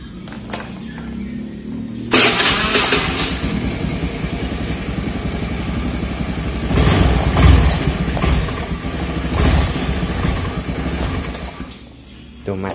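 A Honda Beat scooter with a PE24 carburetor runs rough, its small engine idling unevenly, surging and bogging with loud revving bursts before dying down near the end; a person talks over it.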